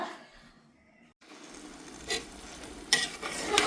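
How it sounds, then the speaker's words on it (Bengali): Meat and rice are stirred and sautéed together in a pan, with soft sizzling and a few scraping, clinking stirs of a utensil against the pan, fairly quiet and close. "তো মাংস আর চাল একসাথে মিশিয়ে আমি কষিয়ে নিচ্ছি।"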